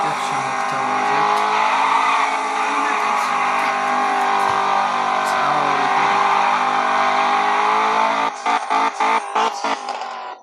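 A car engine in the Roblox video game holds a loud, steady, humming drone that breaks into a choppy, stuttering pattern near the end, while someone talks over it.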